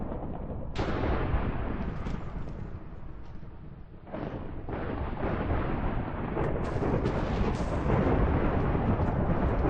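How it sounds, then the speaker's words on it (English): Minecraft lightning and thunder during an Ender Dragon fight, a loud continuous rumbling roar with sharp cracks breaking in, dipping briefly midway before surging again, with no talk. "Lightning's reaching out further."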